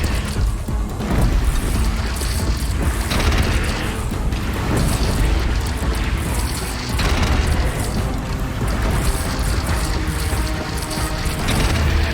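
Rocket explosions and crashing impacts during combat in the video game Horizon Zero Dawn, a dense, loud, continuous barrage of booms and smashes throughout.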